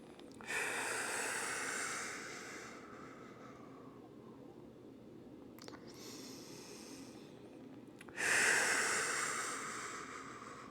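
Deep, slow breathing during a kettlebell workout stretch: two long, airy exhales close to the microphone, separated by a quieter, steady breathy hiss, with no talking.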